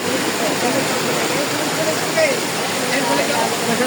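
Strong floodwater current rushing during heavy rain, a steady broadband roar of fast-moving water that stays loud and continuous throughout.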